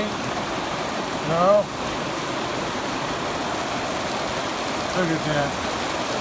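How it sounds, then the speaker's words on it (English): Rain falls outdoors in a passing isolated shower, a steady broadband hiss that goes on throughout, with someone briefly talking twice over it. "Yeah, rain's over me. There's they call it an isolated shower."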